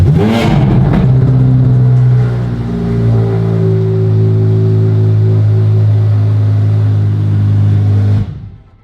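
A 2023 Corvette Z06 engine cranks and fires with a loud burst and revs, then settles into a deep, strong, steady idle that runs for several seconds before cutting off, very close.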